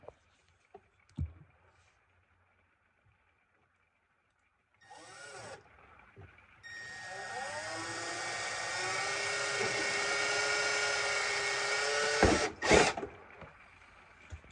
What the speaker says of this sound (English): I'm gonna come back in with a slightly larger drill bit, and I'm only gonna drill the fuselage